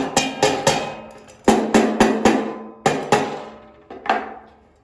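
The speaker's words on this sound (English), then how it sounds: "just grab a hammer. I've got a rubber one which is better for this kind of job" A rubber mallet thumps a PatioLink pet door top panel into its track repeatedly in uneven bursts of two to four blows, each hit dull and close with a short ringing decay.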